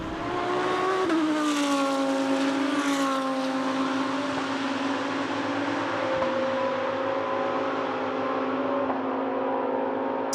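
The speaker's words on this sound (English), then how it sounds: "Mate, that's such a naughty sounding GT3, isn't it?" A GT3 race car in the Rennsport racing game holds a loud, sustained engine note that rises, lifts briefly and settles into a steady high-revving drone, heard from outside the car.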